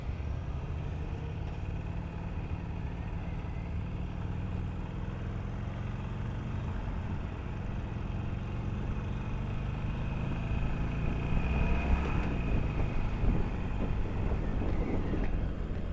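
Harley-Davidson Sportster 1200 Iron motorcycle engine running steadily, a low continuous rumble that swells louder and rougher near the end as the bike pulls away, with no talking over it.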